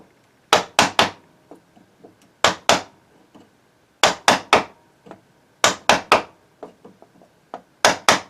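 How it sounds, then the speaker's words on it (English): Light hammer taps on a chisel cutting a lockset mortise into a wooden door by hand: crisp, close strikes in quick clusters of two to four, separated by brief pauses, with faint softer taps in between. "Little taps, baby taps, about a 1/4 inch spacing"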